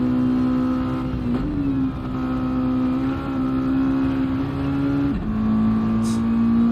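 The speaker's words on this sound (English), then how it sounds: "Using all of the revs this car has in store." Race car engine revving hard on a circuit during a racing event, a loud continuous drone that rises in pitch through the gears with short dips at shifts, close and unbroken.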